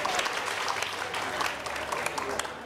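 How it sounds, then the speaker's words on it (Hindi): Audience applause in a TV studio during an iftar broadcast, a dense, fairly quiet patter of clapping hands that continues evenly for a few seconds with light crowd murmur underneath. "तालियां होनी चाहिए।"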